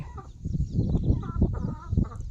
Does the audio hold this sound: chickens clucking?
yes